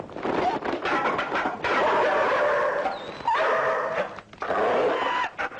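A dog yips and whimpers in short, high cries, close and fairly loud, mixed with talking voices throughout.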